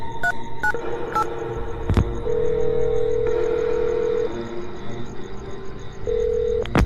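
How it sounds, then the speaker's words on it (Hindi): A mobile phone is dialed: a quick run of keypad beeps, then a long steady tone and a later repeated ringback tone over a low background hum. "अपने मोबाइल से किसी को फोन करने लग जाता है"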